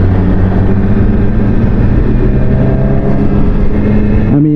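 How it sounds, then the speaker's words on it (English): A Suzuki Hayabusa motorcycle engine droning loud and steady at close range, its tone holding level before rising sharply in the final moment as it accelerates. "for a Hayabusa, a little pull is still pretty fast"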